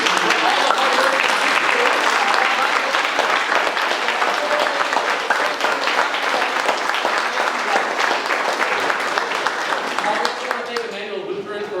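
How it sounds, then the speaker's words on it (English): Sustained audience applause for board members at a youth symphony orchestra performance space, dense steady clapping from a large crowd lasting throughout and tapering slightly near the end, with faint voices mixed in. "Can we give you all a round of applause, please, and recognition?"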